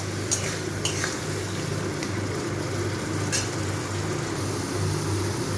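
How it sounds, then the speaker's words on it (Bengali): Spice masala frying and being stirred with pointed gourd juice for potol kopta, giving a continuous close sizzle with scraping spoon strokes against the pan. "এটা দিয়ে আমি এই মশলাটাকে ভালো করে কষিয়ে নেব।"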